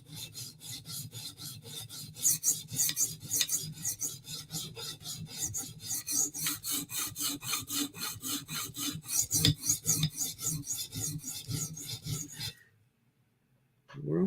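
A knife blade is sharpened by hand on a whetstone with vertical strokes at the heel and forward sweeping strokes, giving a long run of steady rhythmic rasping scrapes, close and clear, that stops abruptly near the end.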